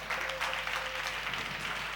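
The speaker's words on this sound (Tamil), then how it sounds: "நல்லா கைதட்டு பார்க்கலாம்." Congregation applauding during a Sunday church service, dense steady clapping from many hands filling the room for the whole stretch, with no pauses.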